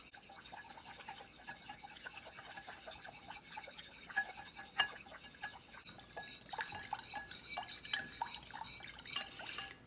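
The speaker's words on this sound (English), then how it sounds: "once this is all added to continue stirring for a full minute" A spoon stirs a jello fat bomb mixture, giving a faint, continuous scraping and rubbing with small liquid ticks and clicks throughout, quiet and close.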